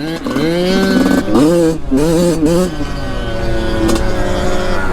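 A cheap used dirt bike bought off Facebook roars loudly while ridden, its engine note rising and falling with the throttle, close and continuous, with brief bits of talk.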